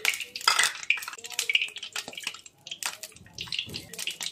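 Panch phoron spices hit hot oil for a bhut jolokia pickle, giving bursts of sizzling and scraping, clinking stirring in a pan, close and uneven with short pauses.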